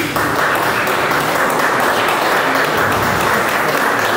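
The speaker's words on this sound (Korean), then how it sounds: "화가님께 큰 박수로 환영을 해주십시오" A crowd at an art exhibition opening breaks into loud, sustained applause welcoming the painter, steady dense clapping filling the whole stretch without a break.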